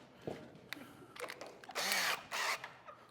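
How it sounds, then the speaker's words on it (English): A power drill whirs in two sustained bursts after a few clicks and handling knocks, loud and close, as a hole saw bites into a pumpkin. "Hook it up to the drill."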